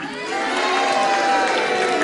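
A wrestling arena crowd cheers and applauds at the end of a bout, a dense, steady roar of voices and clapping that holds loud and continuous throughout.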